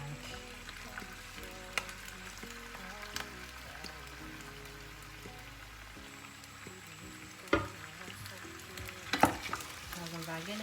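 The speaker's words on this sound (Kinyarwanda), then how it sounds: "nangire mvange" Onions sizzle and fry in a cooking pot as they are stirred, a continuous crackling hiss punctuated by a few sharp scrapes and clanks of the spoon against the pot.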